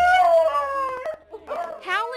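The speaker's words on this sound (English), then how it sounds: "Howling with happiness, Bo is finally back with his owner, little Luke." A dog howls with happiness while reuniting with its young owner at the Mobile County Animal Shelter after seven months lost, giving a long, loud, close wavering howl, then a brief pause and more yelping whines.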